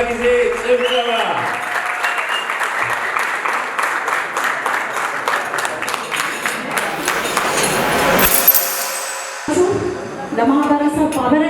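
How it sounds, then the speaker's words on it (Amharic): A final round of applause at a community awards ceremony rises after a short spoken tail, dense clapping building and holding loud before briefly dropping and resuming with some voice and a ringing tone. "ለመጨረሻ ጊዜ ጭብጨባ።"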